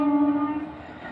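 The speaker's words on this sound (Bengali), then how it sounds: "ট্রেন" A passing train sounds a long, steady horn blast that starts loud and fades into a lower rumble over about a second, with no voices.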